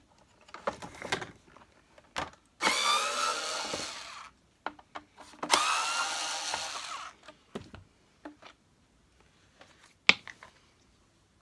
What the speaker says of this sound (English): what I have to do now is remove two screws off the bellows.